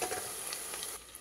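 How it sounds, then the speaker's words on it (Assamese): Onions frying in a pan for pilau, a steady close sizzle with soft stirring crackles that drops to a quieter hiss near the end. "পিঁয়াজ ভাজি লৈছোঁ"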